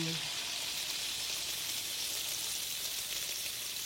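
Cucur Manado batter frying in a hot wok, a steady bright sizzle and crackle of oil throughout, close and continuous with no talk over it.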